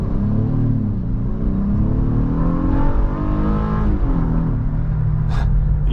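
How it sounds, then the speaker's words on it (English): A 2023 Honda Passport Elite V6 pulls hard under acceleration, its induction growl swelling and rising steadily in pitch from inside the cabin, loud and continuous with no talking. "The induction noise just makes me giggle every time I get on it here"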